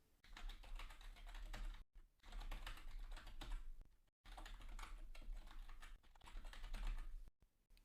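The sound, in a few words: typing a password on a computer keyboard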